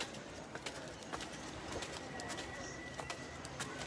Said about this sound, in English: And the birds.